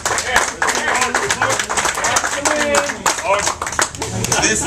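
Scattered handclaps from the crowd at a boxing press conference, with voices talking and calling out over the uneven clapping throughout.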